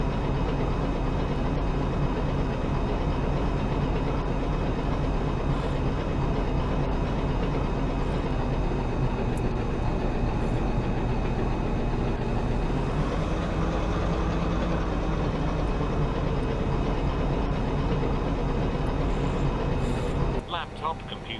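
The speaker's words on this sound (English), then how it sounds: "Start engine 2." A steady, loud, low airliner engine roar and hum builds during engine 2 start in the X-Plane 11 flight simulator, continuous for the whole stretch with a cabin safety announcement voice talking over it.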